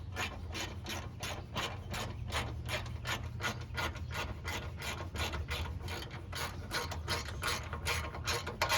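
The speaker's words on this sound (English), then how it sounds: "I put my hand over it to create a little bit of friction on the socket so that it tightens it down" A socket ratchet clicks in a fast, steady rhythm while tightening the oil filter housing bolts on a 2007 Cadillac DTS, each pawl click crisp and close over a low rumbling background.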